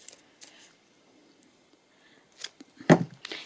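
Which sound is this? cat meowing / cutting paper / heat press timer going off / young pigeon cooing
cutting paper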